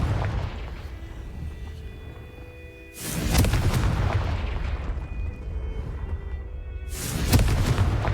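Confringo blasting spell explosions in the video game Hogwarts Legacy, two loud booming bursts a few seconds apart, each followed by a long rumbling roar and debris.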